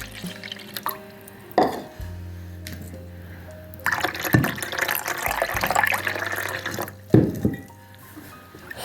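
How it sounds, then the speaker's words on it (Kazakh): Milk pours into a cooking pot for a honey cake, giving a few bursts of liquid splashing and gurgling between quieter stretches, close and fairly soft. "Сүтімізді құйып жатырмыз."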